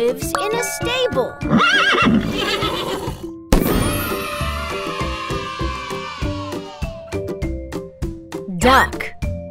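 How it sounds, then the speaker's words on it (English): A horse whinnies loudly in a long, quavering neigh, with a second neigh near the end, set over bright musical tones. "A horse lives in a stable."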